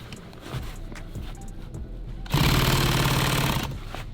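Sewing machine stitching a tack through nylon on a clothes bag, a steady loud mechanical run of about a second and a half starting mid-clip after quieter handling noise.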